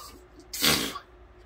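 Mouth-imitated wind gust fart, a single loud, breathy spitting burst lasting under half a second, close and alone against a quiet background.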